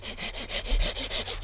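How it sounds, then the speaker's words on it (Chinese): A hand saw cuts through wood outdoors in the Fuxing mountain area of Taoyuan, its strokes close and steady in a rhythmic back-and-forth rasp, about eight pulls, with no voices. "锯木头，走，我去锯木头。"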